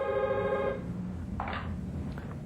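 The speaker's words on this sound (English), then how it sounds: "I reckon we should give Ian a call and have a bit of a whinge" An early mobile-era telephone rings with a bright electronic warble that stops after under a second, followed by a soft handset click and a low room hum.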